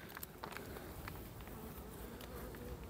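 Dense, steady buzzing of a honeybee colony in an opened hive, a close, continuous hum with scattered individual bees flitting past near the microphone.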